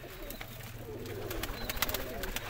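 Pigeons, mostly blue breeding pairs, in a rooftop loft give soft, faint cooing and rustling over a low steady hum, with a few sharp clicks and light movement throughout.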